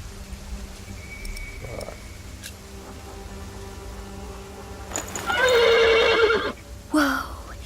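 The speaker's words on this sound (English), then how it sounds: "The horse nearly woke the guard." A horse whinnies loudly and close by in a quiet outdoor setting, one strong neigh with a shorter snort or call after it, over faint background ambience.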